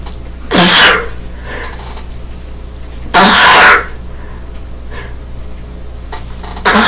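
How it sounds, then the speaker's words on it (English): A person sneezes twice, loud and close, the bursts several seconds apart with quiet breathing between, and a third sneeze begins just as the sound ends. "Oh, excuse me, I gotta sneeze."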